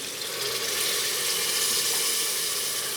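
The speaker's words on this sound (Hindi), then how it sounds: "अब इसमें 1 गिलास पानी डाल दूँगी।" Water from a glass pours steadily into a pot of mutton biryani in a continuous broadband rush, close and fairly loud, with no talking.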